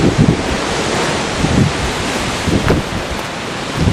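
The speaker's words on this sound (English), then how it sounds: "we didn't even notice any of this wind" Strong wind buffets outdoors beside an old tunnel, a steady loud roar with rough gusty rumbling against the microphone and no voices.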